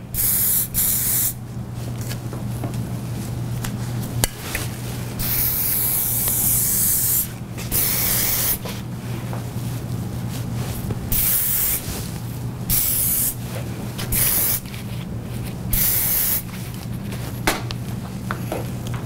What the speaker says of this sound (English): And you can go in and give it a little spray.